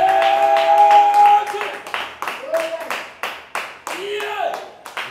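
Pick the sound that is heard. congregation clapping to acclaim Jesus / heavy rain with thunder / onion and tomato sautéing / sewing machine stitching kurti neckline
congregation clapping to acclaim Jesus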